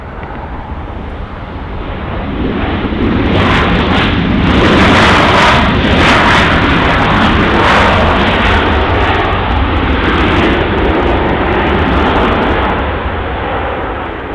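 An Alaska Airlines Boeing 737 MAX 9 in the new Orca livery arrives at LAX from Seattle, a loud sustained jet roar swelling and fading as it passes close by.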